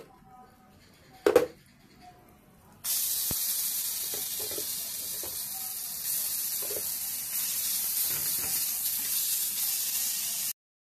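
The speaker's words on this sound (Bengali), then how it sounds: "এবার আমি কালো জিরেটা এর মধ্যে একটু ভালো করে ভেজে নিয়ে" Black cumin seeds frying in hot mustard oil make a sudden loud sizzle and hiss that sets in after a short quiet stretch with a clunk, then holds steady and close, with light scrapes, before cutting off.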